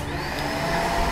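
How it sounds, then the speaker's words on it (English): A large vacuum cleaner cleans out a car, a steady loud whirring drone with a constant motor whine, heard close and unbroken. "Is he vacuuming his car?"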